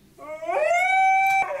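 A dog howls in one long, rising, steady tonal note that holds before breaking off, close and clear with no talk over it.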